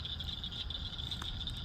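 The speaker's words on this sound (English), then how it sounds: "This guy right here is a little woodhouse toad" A little Woodhouse's toad gives a steady, buzzing, high-pitched trill with its throat distended. The call runs unbroken and fairly close for the whole stretch, with no talking.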